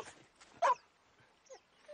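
A dog gives a brief high whimpering yelp, then a softer whine moments later, close by in a quiet room.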